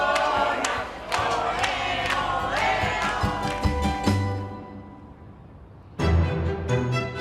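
Excited crowd in Andalucia cheering and shouting after the girls win a sherry tasting competition, loud bursts of voices and whoops that fade toward quiet before a fresh roar of cheering rises.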